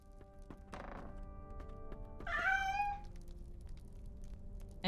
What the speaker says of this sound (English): And somewhere in this house is a cat. Where is it? I heard it.